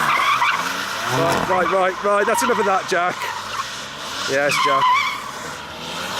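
A BMW M3 driven hard, its tyres squealing in repeated wavering bursts over a running engine, loud and close, with someone talking over and between the skids.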